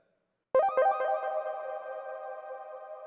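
A sustained synth pad chord with a delay effect starts abruptly after a short silence, its opening notes echoing in quick repeats before settling into a smooth, fading drone.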